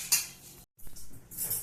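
A ladle clinks against bowls while vegetable soup made with tomato and cabbage is served into two bowls, with a few bright metallic taps and scrapes split by a short silent gap.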